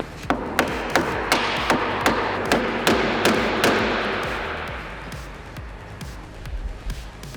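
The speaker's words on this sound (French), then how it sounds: "je vais le rentrer un petit peu en force en tapotant avec un petit maillet" Mallet blows tapping an electric guitar neck into its pocket during a home build with basic tools: a steady series of sharp, close knocks about twice a second, then slowing and fading into softer handling sounds.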